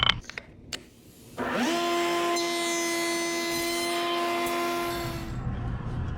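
A power saw spins up with a rising whine and cuts a short wooden stile-and-rail door rail that has no backer board. The tone is steady and loud for about four seconds, then winds down after a few faint knocks.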